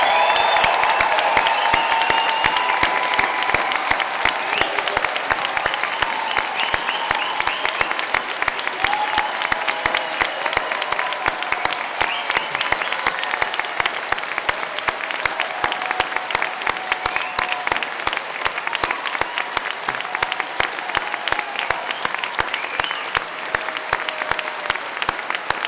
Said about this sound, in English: let's give them a huge round of applause, the loudest and most rowdy, to say congratulations